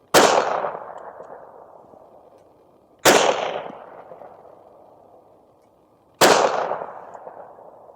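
Three loud, sharp gunshots from 147 grain reloads fired over a chronograph outdoors, evenly spaced about three seconds apart, each a close crack followed by a long echoing decay, with no talking.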